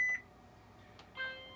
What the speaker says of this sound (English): And then there's the traditional beep.